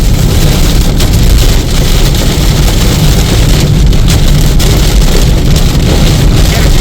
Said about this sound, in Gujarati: એમ એમ તો વધારે વધતો જ જાય છે આ વરસાદ